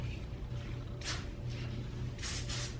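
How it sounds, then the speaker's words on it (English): ORIBE Superfine hairspray hisses onto hair in short bursts, a couple of quick sprays spaced apart over a low background hum, close by. "I'm gonna go in with a little bit of the ORIBE fine, Superfine hairspray."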